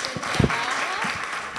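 A seminar audience in a lecture room breaks into sustained applause, a dense steady wash of clapping from many hands that holds at an even level throughout.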